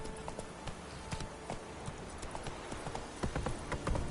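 Roach, the horse in the video game The Witcher 3: Wild Hunt, gallops with a steady, continuous clip-clop of hooves over a constant background wash, the hoofbeats firm and close throughout.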